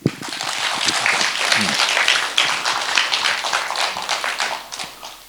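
An audience at a lecture on Korean democracy bursts into sustained applause, a dense, even wash of many hands clapping at moderate loudness for several seconds, with a faint voice briefly audible near the start.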